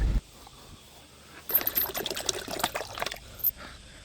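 Cold water freshly melted from ice splashes and trickles as it is poured out for a dog, a short burst of pouring in the middle, fairly close and moderate.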